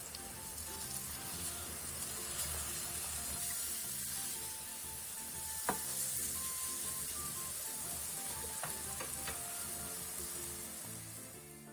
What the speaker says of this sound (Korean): 그 다음 더덕을 다시 뒤집은 뒤 약 2분 정도 더 구워 마무리해주세요.